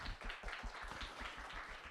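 Congregation at a middle-school church worship service clapping for teachers, a steady run of close, even hand claps lasting about two seconds.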